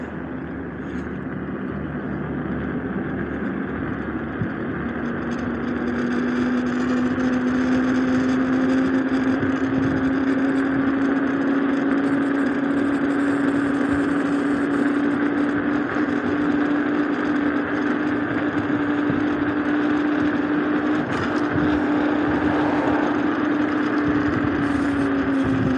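An isinwheel GT2 electric scooter running flat out in turbo mode on a slightly inclined straightaway, with a steady loud whine that climbs in pitch over heavy wind rush, continuous for the whole ride.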